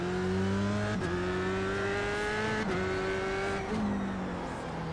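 An F3 open-wheel race car engine in iRacing at the Okayama circuit holds a steady high whine, with sharp drops and rises at each gear change, loud and alone.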